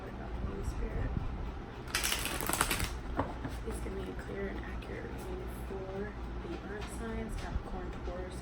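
A deck of tarot cards is shuffled indoors, giving soft riffling and a brief, louder burst of rapid card flutter close by.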